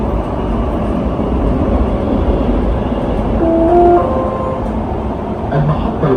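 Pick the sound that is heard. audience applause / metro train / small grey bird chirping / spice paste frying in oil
metro train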